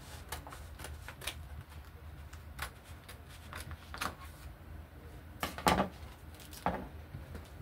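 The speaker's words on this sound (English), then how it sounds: "I'm gonna take my scissors and I can just trim this off just like this" Scissors snip through a screen-printed custom license plate graphic being trimmed for finishing, a series of light, close cutting clicks and snips in a quiet room with faint background noise.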